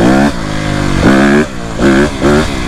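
A dirt bike's engine revs hard for a power wheelie, throttle opened, released and opened again in loud rising bursts with brief dips between, close and steady.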